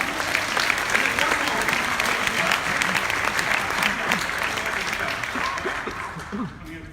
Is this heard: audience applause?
yes